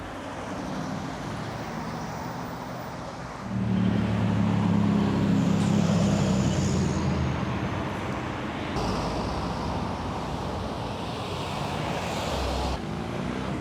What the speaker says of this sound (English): I also want to get cars coming around the corner.